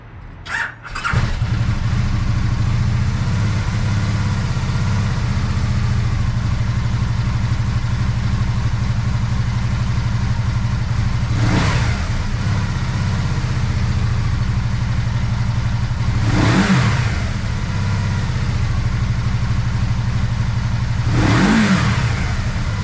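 A 2011 Can-Am Spyder RT-S SE5 trike with ABS starts with a brief crank, then settles into a steady, loud idle broken by three sharp throttle revs spaced a few seconds apart.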